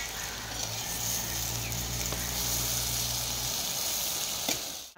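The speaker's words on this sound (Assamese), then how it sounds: "এতিয়া 10 মিনিট এনেধৰণে ভাজি দিম।" Potatoes and banana flower fry in a pan over a wood fire with a steady, close sizzle and low hum throughout, ending with a brief clatter.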